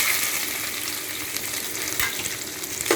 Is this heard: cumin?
yes